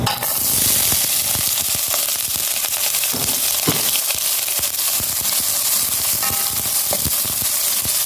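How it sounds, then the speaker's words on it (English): Seasoning sautéing in hot oil in a pot, a steady dense sizzle and crackle with scattered sharp pops running throughout, loud and close with no talking. "I'm just gonna saute these and remove them so we can do our curry"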